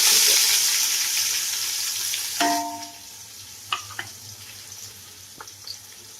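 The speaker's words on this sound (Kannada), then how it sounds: "ಈರುಳ್ಳಿ ಹಾಕಿದೆಯಲ್ಲ ಇದು ಒಂಥರ ಬ್ರೌನ್ ಕಲರ್ ಆಗಿ ಬರ್ಬೇಕು" Onions frying for chicken biryani, a loud sizzle that settles into a quieter crackle after a spoon scrapes and clinks against the pan, followed by a few more light taps.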